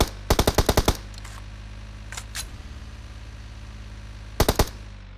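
Rapid bursts of automatic gunfire in a shooting video game: a fast volley of about six shots at the start, a few softer thuds in the middle, then a short three-shot burst near the end, with quiet background hum between.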